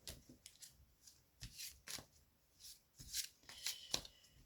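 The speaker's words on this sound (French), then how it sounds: "Donc, je vais battre les cartes." Oracle cards, a deck called the mirror oracle, shuffled by hand: a steady run of soft riffling and sliding swishes with sharper flicks, close and fairly quiet, with no talking.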